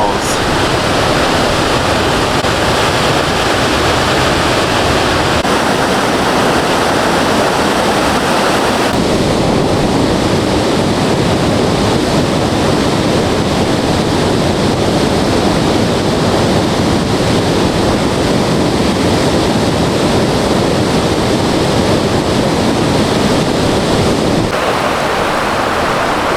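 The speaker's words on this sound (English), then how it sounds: "This is Tuolumne Falls." Tuolumne Falls, a waterfall on the Tuolumne River in Yosemite, roars in a loud, unbroken broadband rush that holds steady throughout, heard up close with no voices.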